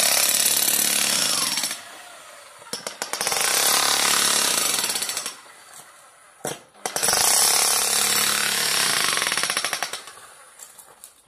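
Loud jackhammer bursts of construction work, pounding in long stretches separated by brief pauses, close by with no talking.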